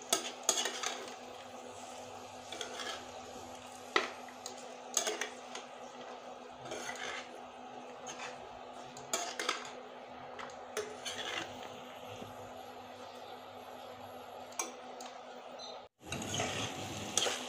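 Fried potatoes and peas being sautéed with masala in a pan, a faint steady sizzle with light intermittent spatula scrapes and taps throughout, no voices.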